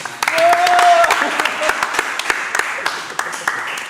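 A studio audience breaks into applause, a dense burst of clapping with a whistle and cheering voices on top, then thins to scattered claps while people talk over it.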